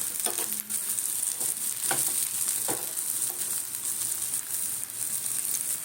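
Fritters of chana dal, prawn, coconut and coriander fry in shallow oil, making a continuous close sizzle broken by occasional crackles and light scrapes, with no speech.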